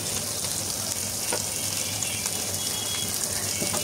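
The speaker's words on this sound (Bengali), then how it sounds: "আমি একটু ফিশ ফ্রাই করব, মাছ ফ্রাই করব" Small fish sizzle in hot oil in a home kitchen pan, a steady, loud crackling hiss with occasional sharper pops and spits, close by and with no talking over it.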